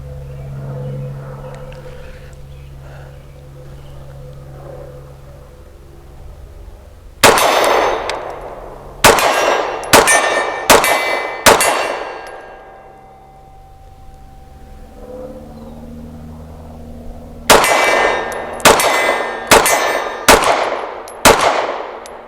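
Ten sharp shots from a Sig P365 Fuse pistol ring out in two quick strings of five, each crack loud and ringing with bright metallic decay over a quiet outdoor range.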